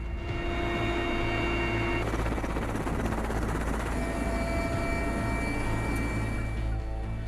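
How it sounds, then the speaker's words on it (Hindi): Military helicopters armed with troops and weapons fly over Ukraine, giving a continuous, loud rotor roar with a dense, steady whirring hum that stays constant throughout, with no voices over it. "यूक्रेन के आसमान में मंडराते ये हेलीकॉप्टर जो पूरी तरह से जवानों और हथियारों से लैस है"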